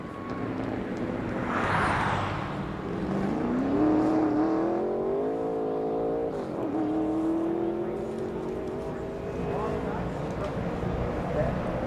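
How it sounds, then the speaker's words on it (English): NASCAR stock car from the 2004 qualifying session for the MBNA 500 revs on its qualifying lap, the engine drone rising and bending in pitch as it passes, steady and fairly loud under continuous commentary. "The Morgan McClure number 4 is the next car to roll"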